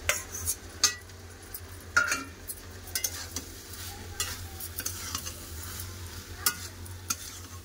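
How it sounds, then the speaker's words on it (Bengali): Pre-fried prawns stirred into a sautéed spice mix in a pan, a quiet continuous sizzle under repeated spoon scrapes and occasional metallic clinks against the pan. "এবার দিয়ে দেবো ভেজে রাখা চিংড়ি মাছ।"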